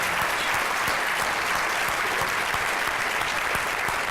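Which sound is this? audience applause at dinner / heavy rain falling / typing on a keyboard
audience applause at dinner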